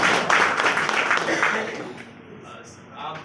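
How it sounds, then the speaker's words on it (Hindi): An audience at a DXN office gathering in Doha, Qatar bursts into clapping, a dense close patter of many hands that fades out after about two seconds, with voices mixed in. "जोरदार ताली"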